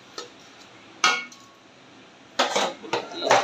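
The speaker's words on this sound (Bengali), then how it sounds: "এগুলো নাড়াচাড়া দিয়ে আমি আরও 5 মিনিট" Clinks and scrapes of a spoon against a cooking pot as rice and lentils are stirred together for khichuri, coming in a few scattered bursts with quiet gaps between them.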